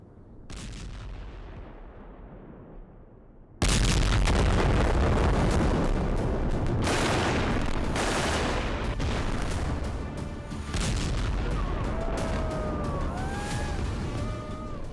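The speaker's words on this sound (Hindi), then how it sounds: "इजरायल की वायुसेना बमबारी से तबाही मचा रही थी" Loud, heavy blasts and booming artillery-like fire from Israeli air strikes in Gaza, starting with a distant rumble and then breaking into a sustained barrage of close explosions, with a wailing siren rising faintly near the end.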